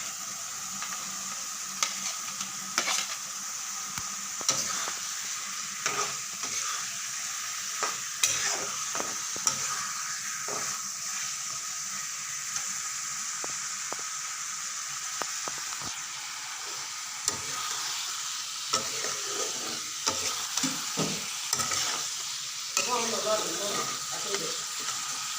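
Meat sizzling steadily in a pan while a spoon scrapes and stirs it at irregular intervals, the frying hiss continuous throughout with repeated clattering stirs close by.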